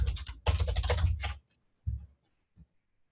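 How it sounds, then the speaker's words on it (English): Keys tapped on a computer keyboard in a quick burst, then a few isolated keystrokes after a pause, close and clear in a quiet room. "we're going to type in chuck roast."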